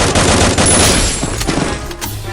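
Loud, rapid gunfire in a shooter video game, a dense burst of overlapping shots that thins into scattered single cracks toward the end.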